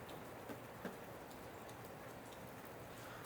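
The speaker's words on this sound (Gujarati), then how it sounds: "ઉપર તો વરસાદ ચાલુ હો, એટલો બધો નહીં પણ છાંટા પડી જાય." Light rain falls steadily as a very faint, soft hiss outdoors by a highway-side house. Occasional tiny drop ticks stand out, with no talking.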